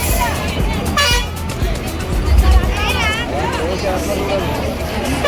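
Vehicle horns toot repeatedly in dense, crowded traffic near a temple festival, short and long honks overlapping a steady engine rumble and loud crowd babble, with people talking nearby.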